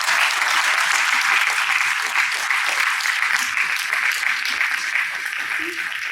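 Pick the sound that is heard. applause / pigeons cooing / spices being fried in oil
applause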